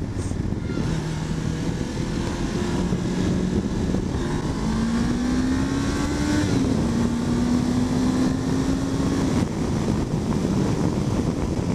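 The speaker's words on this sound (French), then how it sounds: "Du coup, ça monte assez rapidement dans les tours." A Honda CB500X motorcycle, unrestricted, pulls through a downshift as its engine climbs steadily in revs, the rising tone heard close up while riding under heavy wind rush across the microphone.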